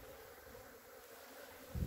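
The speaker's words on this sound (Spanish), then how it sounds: "si ustedes pueden ver, la abeja está trabajando bien" A faint, steady honeybee buzz hums over quiet outdoor background near beehives in a coriander field, with a brief louder thump near the end.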